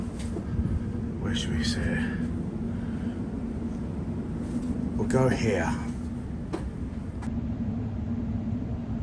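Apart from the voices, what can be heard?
inside a train travelling to Manningtree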